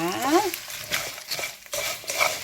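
Dried chili pepper bugak stir-fried in cooking oil over lowered heat, giving a short burst of crackling sizzle with quick scraping stir strokes.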